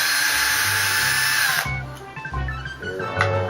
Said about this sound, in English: I'm going to use this drill and I'm going to set it on appropriate truck level.